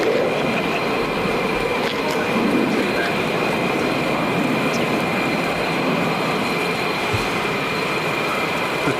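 A steady, loud, broadband jet roar fills the whole stretch without letting up, as military jet aircraft pass overhead or circle nearby at RAF Lakenheath.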